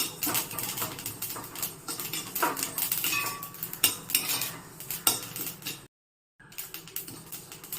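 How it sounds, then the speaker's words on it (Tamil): Close, irregular crackling and popping of black urad lentils frying in a pan, mixed with metal clinks of a utensil, with a brief silent gap near the end. "இப்போ படப்படன்னு பொரியுது பாருங்கள். நல்லா பொரிஞ்சு அந்த பொரிகிற சத்தம் அடங்குறப்போ நம்ம எடுத்துடலாம்."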